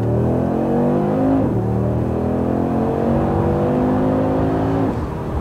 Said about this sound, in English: Well, we'll start with the engine note.